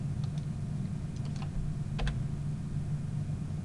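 Someone types on a computer keyboard while entering a username into a browser login form, giving a few quiet scattered key clicks over a steady low hum.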